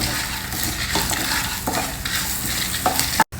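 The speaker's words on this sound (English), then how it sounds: "I have taken 1 large onion and just chopped it roughly and fry this also together with these ingredients" Chopped onion frying with spices and chilies in a pan for an ashgourd morkootu and onion sambar masala, a steady close sizzle broken by repeated scraping stirs.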